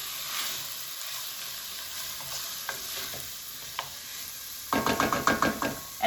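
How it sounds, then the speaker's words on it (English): Garlic sizzles in olive oil in a pan with a gentle steady hiss and a few scattered taps, then a quick run of clattering scrapes as it is stirred near the end. "in goes my garlic. And I'm going to give this a stir."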